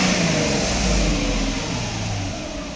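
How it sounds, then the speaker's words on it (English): A Mercedes engine revs steadily as the throttle is opened during an in-car throttle body test, a continuous loud mid-pitched drone holding for nearly three seconds before easing slightly. "Let me give it some gas to show you that there is acceleration and everything is still fine."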